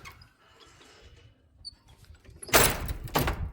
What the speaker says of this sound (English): Old wood door, screen door slamming shut.